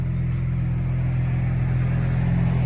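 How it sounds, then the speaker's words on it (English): A 2012 Dodge Challenger V6 with dual exhaust and the rear resonator deleted idles nearby, a steady, smooth low rumble that stays even and moderately loud throughout, with no talking. "I always like the rear muffler delete on those. It's just a really smooth sound"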